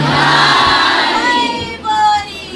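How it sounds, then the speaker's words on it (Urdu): A crowd at a majlis loudly chants a religious slogan in unison, a dense burst of shouted voices that swells, fades, then rises again briefly. "نعرے حیدری حیدری"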